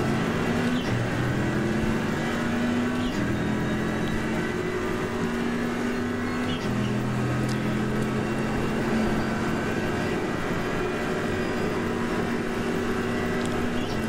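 Race car in the iRacing sim accelerating onto the oval at Texas, a continuous loud engine drone with shifting pitch as the revs rise and change gear, with no pauses.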